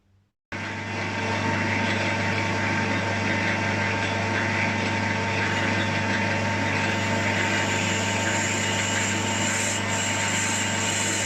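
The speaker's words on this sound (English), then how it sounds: "now I've got to drill that so I can tap that 5/16" A close, steady whine of a machine drilling a tapping hole for a 5/16 thread in metal on a 2-inch scale traction engine part starts abruptly and holds a constant tone with a grinding mechanical edge throughout.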